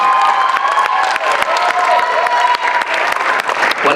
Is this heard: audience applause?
yes